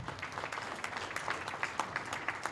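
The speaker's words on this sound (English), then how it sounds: "Let's give the outgoing chair another round of applause." Applause at a ministerial meeting of an African Union technical committee, honouring the outgoing chair; scattered individual claps stand out over a moderate, continuous wash of clapping from the room.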